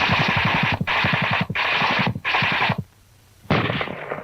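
Tank guns fire in WWII archive footage, sounding as four loud rapid bursts of automatic fire with short gaps between them, then a longer pause before a final burst.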